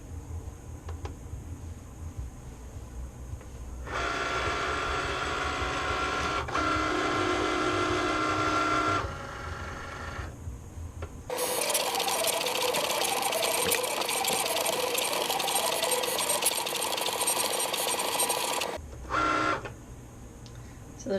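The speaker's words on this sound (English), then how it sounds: "I set it up so that it would cut onto this 4-inch piece of vinyl" A Cricut cutting machine cuts a design into a 4-inch piece of vinyl, giving a steady mechanical whir in two long runs separated by brief pauses, with short motor bursts at the start and end.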